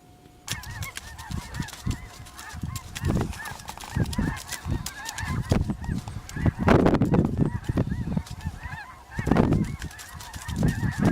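A flock of snow geese honks repeatedly and loudly over Missouri River bottoms, calls overlapping in a noisy outdoor chorus that keeps going throughout.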